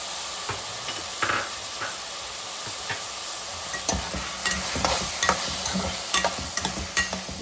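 Shelled pigeon pea seeds go into a frying pan with tomato, giving a steady low sizzle with scattered scraping and stirring clatter that grows busier toward the end, close and alone without talk.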